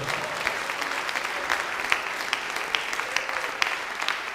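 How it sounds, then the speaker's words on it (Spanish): A church congregation at a Spanish-language service applauding, steady dense clapping from many hands throughout, with a few sharper individual claps standing out. "Denle gloria a Dios y un aplauso al Señor."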